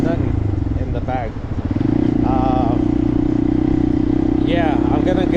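A Honda motorcycle engine drones steadily and loudly while riding, the throttle held open in a constant close buzz as someone talks over it.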